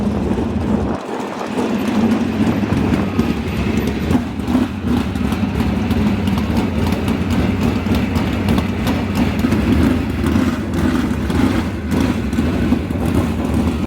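A High Limit Sprint Car Series sprint car engine warms up at the Texas Motor Speedway dirt track, a loud, steady, rough drone that holds without a break for about fourteen seconds, with no voices.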